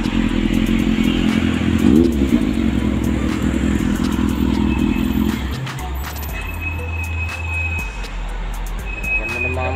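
A Yamaha FJ6 motorcycle engine idles with a low steady rumble, then drops to a lower drone midway; a voice talks over it.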